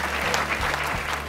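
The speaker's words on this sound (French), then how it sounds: "ça mérite un grand applaudissement de toute l'équipe" Brief burst of steady group applause for a school team at a fair-trade schools event, with low murmuring voices underneath.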